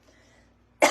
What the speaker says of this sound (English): Excuse me, I'm gonna cough a little bit.